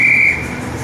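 A man on a town-centre street in Puerto Morelos, Mexico, gives a short, loud, piercing whistle blast lasting about a third of a second, then it cuts off, leaving street ambience.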